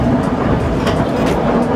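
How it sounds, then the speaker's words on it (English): Loud, steady rumble of a train in motion near London, with a low droning hum and faint rhythmic rattling throughout. "we're taking the tube and then the train"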